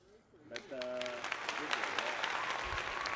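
A small group on a house-building site claps for a few seconds after a brief spoken voice, the applause fairly close and lively but short, with light background noise.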